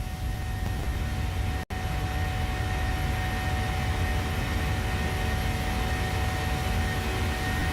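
Boeing 737-700 taking off from Albuquerque Sunport in Microsoft Flight Simulator 2020: a steady, loud broadband jet engine roar that holds constant throughout, broken by one brief dropout near the start.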